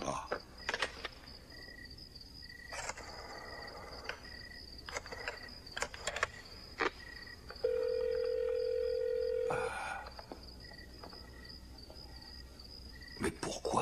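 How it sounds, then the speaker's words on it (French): A telephone in a horror film rings unanswered, a steady electronic tone lasting about two seconds amid chirping crickets and scattered clicks in a quiet nighttime scene. "Mais pourquoi personne ne répond au téléphone?"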